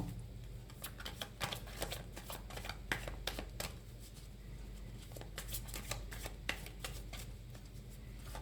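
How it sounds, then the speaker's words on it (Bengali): Tarot cards being shuffled by hand, a run of quick crisp riffling flicks and papery slaps repeating in bursts, close and fairly quiet, with no talk. "একটু কার্ডগুলো সাফাই করে নিই"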